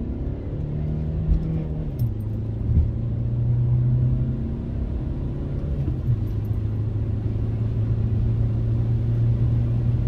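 SEAT Leon car accelerating hard in second gear on turbo boost on a motorway, a steady engine drone heard from inside the cabin that climbs gradually in pitch, with a brief dip and another rising pull.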